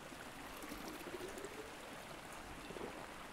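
A flask being filled with water in the video game Miscreated, a steady rushing trickle of running water, continuous and moderately close with no talk.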